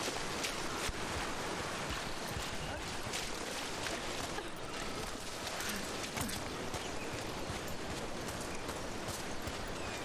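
A waterfall in Dragon Age: The Veilguard roars as a constant dense rush of falling water, steady and enveloping for the whole stretch with faint clatter mixed in.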